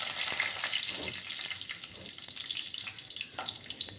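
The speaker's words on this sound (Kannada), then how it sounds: "ಈಗ ಸಾಸಿವೆ ಚಿಟಪಟಾಯಿತು." Mustard seeds and cumin spluttering in hot oil in a pan for masala chitranna, a dense, steady crackle with sharp pops scattered throughout, close by and with no talk.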